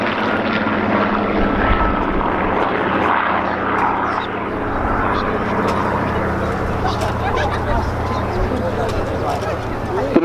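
A Merlin-engined propeller fighter, Hurricane or Spitfire with the 27-litre engine, drones steadily at an airshow. The engine roar carries under continuous commentary over a loudspeaker and sits at a moderate distance.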